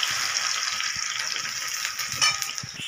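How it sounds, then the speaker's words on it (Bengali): Crushed garlic hits hot oil for an amudi dried-fish curry, producing a loud, continuous close-up sizzle with faint clicks of utensils underneath. "তেল গরম হয়ে গেছে, এর মধ্যে যে রসুন থেতো করা দিয়ে দিলাম"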